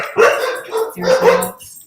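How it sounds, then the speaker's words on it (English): Dogs bark in two close, loud bursts of a few yips each, with a short pause between and no talk. "don't even know what they're barking at"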